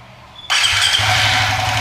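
A motorcycle engine tuned with an Apitech ECU cranks and fires up abruptly, then settles into a steady close idle that continues loudly to the end.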